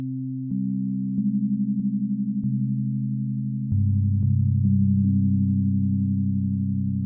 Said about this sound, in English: let's go back to sustain and just see the regular sine wave